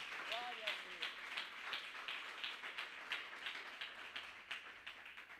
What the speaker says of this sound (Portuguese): eu convido você a dar uma linda salva de palmas para Jesus